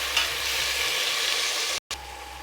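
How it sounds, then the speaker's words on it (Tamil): Chopped onion, green chillies and tomatoes sautéing in a pan for mint rice, a steady close sizzle with a brief cut near the end. "2 தக்காளி கட் பண்ணி வச்சுருக்கேன், அதையும் சேர்த்துக்கிறேன். சேர்த்து நல்லா வதக்கிக்கோங்க."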